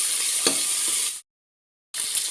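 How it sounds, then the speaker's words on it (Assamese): Raisins and vegetables being stir-fried in a pan for sweet pulao, a steady broadband sizzle with spoon-stirring scrapes, cut by a brief silent gap before the frying resumes; no talking. "এতিয়া সিজি থকালৈকে অকণমান সময় লৰাই লৰাই ভাজি থাকিম"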